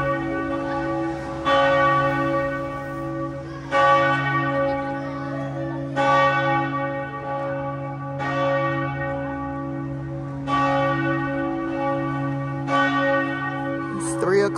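Large cathedral church bells tolling at three o'clock in Switzerland, six slow, evenly spaced heavy strikes over a sustained ringing hum, loud and resonant with no voices.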